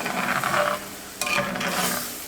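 A spoon stirring sausage gravy for homemade biscuits in a pan, two bursts of scraping and swishing with a gentle sizzle beneath, close and moderately loud, no voices.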